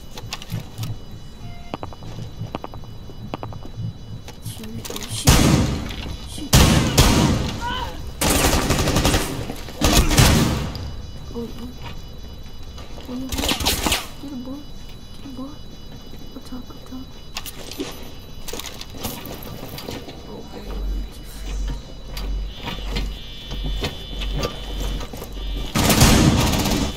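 Video game gunfire during a bomb-defusal round, heard as several loud bursts of rapid shots separated by quieter gaps, with talking in between.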